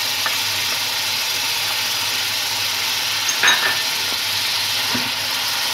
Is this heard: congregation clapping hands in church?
no